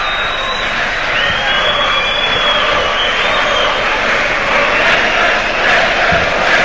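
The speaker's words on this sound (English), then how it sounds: "he's getting applause from some" Football crowd at Ipswich Town v Derby County giving a player scattered applause, a broad steady wash of clapping and stadium murmur with a faint high whistle-like tone running through it.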